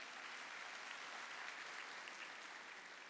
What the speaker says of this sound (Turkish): Şöyle toplu koca bir alkış jürimize.